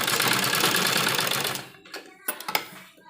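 A sewing machine runs a loose basting stitch across fabric for a child's frock, whirring steadily up close for about a second and a half, then stopping, followed by a few sharp clicks and handling knocks.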